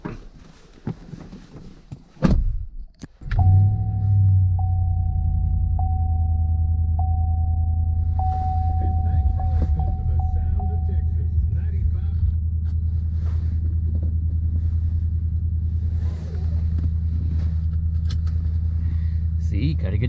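A truck engine idles steadily after starting, a deep continuous rumble with a faint whine, close by and alone for about twenty seconds, with a few small clicks and rattles.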